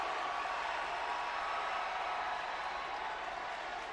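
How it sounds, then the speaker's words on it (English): A WWE SmackDown arena crowd gives a loud, unbroken ovation, a dense roar that holds level throughout without pause. "What an ovation."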